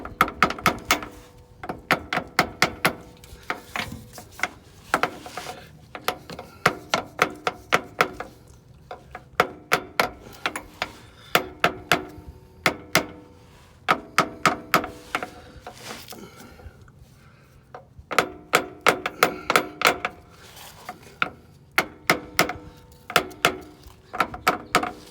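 Sharp hammer taps ring out in quick irregular bursts, loud and close, while the corners of a 9.25 rear axle with disc brakes are knocked into place during a swap on a 1998–2002 Dodge Durango.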